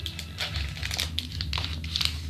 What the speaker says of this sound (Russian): Вот в таком маленьком салофанном пакетике.